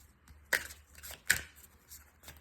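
Tarot cards being shuffled by hand make a few sharp riffling snaps and soft rustles, sparse and close, in a quiet room.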